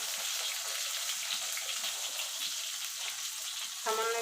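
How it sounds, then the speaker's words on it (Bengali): Long-cut eggplant slices deep-frying in oil for a pabda fish curry make a soft, even crackle that holds steady throughout, with a brief tonal clatter near the end. "দেখুন বন্ধুরা, বেগুনগুলো ভাজা হয়ে গেছে"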